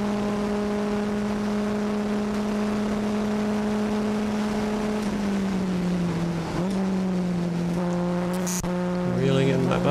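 A 1972 Alfa Romeo GTV race car's engine holds a steady high drone while cruising on a short course, then dips and rises again through an upshift. The engine is loud and close throughout.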